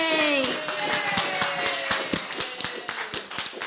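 A small group claps in a loose, uneven rhythm at a casual ladies' night internet show, the claps close and crisp while voices carry over them at the start.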